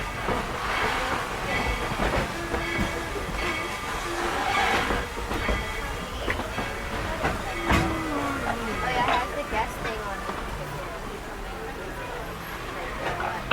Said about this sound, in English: This train is still in motion